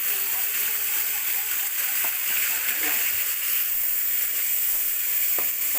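Tomatoes sizzle and hiss steadily in a pan after a little water is added, an even frying crackle lasting several seconds with no clear speech over it.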